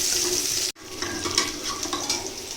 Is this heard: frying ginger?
yes